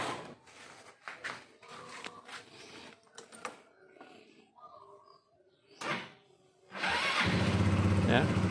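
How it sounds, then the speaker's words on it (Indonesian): A used motorcycle engine starts after a stretch of talk and background noise, then settles into a steady, loud idle that holds to the end. "Kita nyalakan mesinnya."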